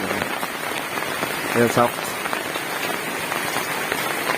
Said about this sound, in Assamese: চাওক গৰু বিহু কিন্তু দিলে বম বৰষুণ